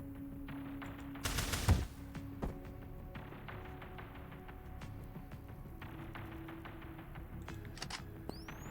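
Video game gunfire from a heist mission: one loud burst of shots near the start, followed by sparse faint pops over a steady low game background, no talking.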